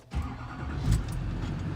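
Duramax diesel pickup engine cranks and catches within a second, then settles into a steady, close rumbling idle.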